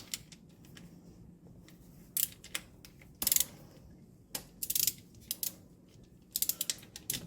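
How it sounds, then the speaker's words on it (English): A ratchet works loose the bolts on the CVT pan of a 2.5-litre Nissan X-Trail T31, giving quick bursts of clicking in short clusters close by, separated by quiet gaps. "I'm just going to start by breaking off the rest of the bolts"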